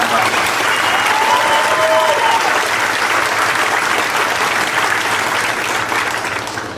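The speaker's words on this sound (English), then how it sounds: "If we could give them a round of applause." At a 2021 high school commencement, the audience applauds teachers and support staff, a loud sustained wash of many hands clapping that holds steady throughout and fades slightly toward the end, with a few faint voices mixed in.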